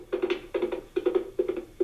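A horse's running hoofbeats play as a recorded sound effect on a 2-XL toy, with quick clusters of clopping strikes repeating in a steady galloping rhythm about twice a second, close and moderately loud, with no talk.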